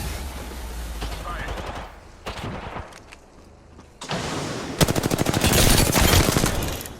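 Rapid automatic gunfire from an Apex Legends match, with bursts of shots, a lull, then a long, loud sustained volley, mixed with game sounds and voice chatter.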